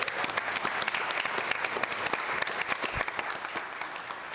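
A school board meeting audience applauds an award recipient with dense, steady clapping from a roomful of people, continuous for about four seconds at moderate distance.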